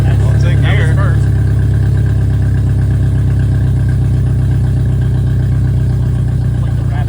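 A VW Mk2 Scirocco 16v engine runs steadily up close, a dense low rumble throughout with people talking over it.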